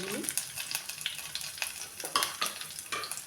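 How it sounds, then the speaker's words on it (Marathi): Curry leaves and green chilies sizzle in hot oil for a Maharashtrian grated potato stir-fry, a steady crackling hiss with sharp spattering pops and stirring scrapes throughout, close and fairly loud with no talking. "आता कडीपत्त्याची पाने घालायची आणि हिरवी मिरची घालायची"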